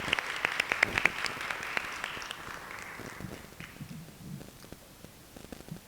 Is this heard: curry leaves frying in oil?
no